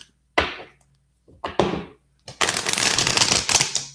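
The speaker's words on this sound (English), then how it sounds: "Let me do one more shuffle." Tarot cards being shuffled: a few sharp taps and short riffles, then a longer, dense flutter of cards riffling together, close and fairly loud with no talking.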